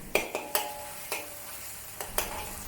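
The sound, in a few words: stir-frying mushrooms with XO sauce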